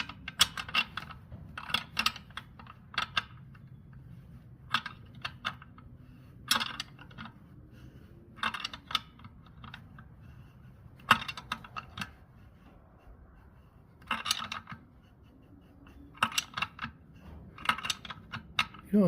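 A 16mm wrench snugs a nut onto a John Deere tractor's front wheel in the woods, giving sharp metallic clicks and ratcheting clinks in irregular bursts, close and crisp over a quiet low background.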